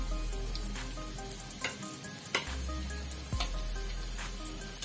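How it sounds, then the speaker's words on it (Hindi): Veg spring rolls deep-fry in hot oil, a continuous bubbling sizzle heard up close, with several sharp crackles and pops scattered through, partly under a low background hum and music-like tones. "अब इसी तरह हम बाकी बचे रोल को भी फ्राई कर लेंगे।"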